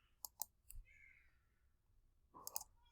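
A computer mouse clicks faintly in a quiet room: two quick clicks, then a single one, and after a pause a rapid double click, over a low hum.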